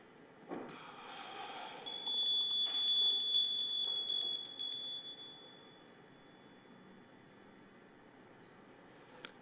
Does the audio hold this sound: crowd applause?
no